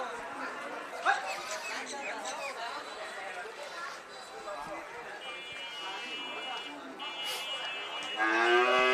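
Cattle lowing at a busy livestock market, with moos and calls rising over a steady crowd of people talking nearby.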